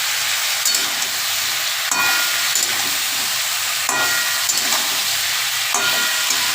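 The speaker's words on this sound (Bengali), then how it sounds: "এটা একটু ভাজা ভাজা হচ্ছে দেখো, একটু ভাজা হলে আমি তখন পুঁই ডাঁটাগুলো ছেড়ে দেবো।" Oil sizzles and hisses in a pan during cooking of a Malabar spinach chachchari with mustard and poppy seed, before the stems go in. The frying hiss is steady and close, with sharp clicks of a spatula recurring about every two seconds.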